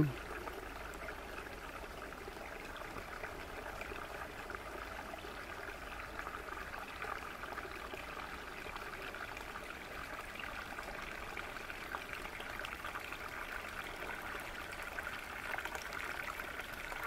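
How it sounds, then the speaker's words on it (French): A small stream flows steadily in an outdoor setting, a faint, continuous babbling wash of water with no voices, even in level for the full length. "un petit ruisseau."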